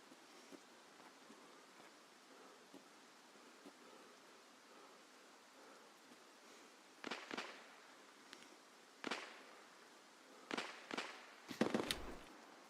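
Several sharp, distant rifle cracks from a sniper Scav in Escape from Tarkov, a few isolated shots spread out, then a tighter cluster near the end, over a steady wash of ambient noise.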